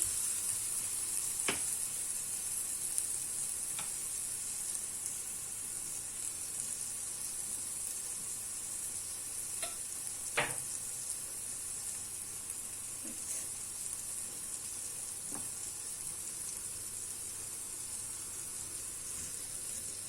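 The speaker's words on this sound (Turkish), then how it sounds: "patlıcanımı bu şekilde sotelemeye devam edeceğim" Eggplant sautés in a pan with a constant, even sizzling hiss, joined by occasional light clicks from stirring, close and steady throughout.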